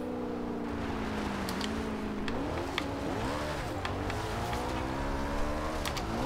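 A 2011 McLaren MP4-12C engine in Forza Horizon 2, droning steadily and rising and falling in pitch as the car accelerates and shifts, with faint clicks over the continuous engine tone.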